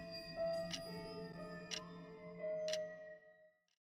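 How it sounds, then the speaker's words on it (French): A clock ticks steadily, three crisp ticks spaced about a second apart, over soft sustained musical tones in a gentle bedtime-story setting, fading out at the end. "en plus du tic-tac de l'horloge"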